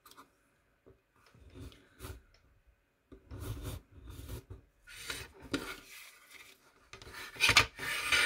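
Paper being scored along a diagonal fold line for a folded craft box, heard as close, dry rasping strokes in short bursts separated by quiet gaps, with a louder stretch toward the end.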